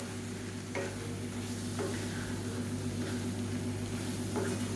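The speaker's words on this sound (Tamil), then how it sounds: "ஒரு ரெண்டு நிமிஷம் நல்லா ஹை ஃப்ளேமில் வச்சு கரட்டி விட்டுக்கலாம்" Eggplant and potato curry stirred in a pan over a high flame: a few soft, spaced scrapes of a spoon over a steady, low background hum, with no voices.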